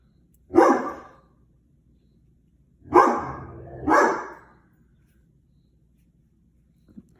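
A dog barks three times, one single bark followed after a pause by a quick pair, moderately close and loud against an otherwise quiet room.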